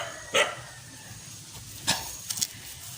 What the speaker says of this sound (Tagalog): Ay, yung aso.